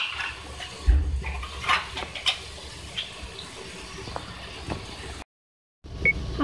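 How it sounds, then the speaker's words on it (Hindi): Water, about half a cup, pours into a pan of spiced chicken and potato curry in a kitchen, with light clinks of metal and a brief gap of silence near the end. "अब इसके अंदर मैं थोड़ा सा पानी भी ऐड कर रही हूँ।"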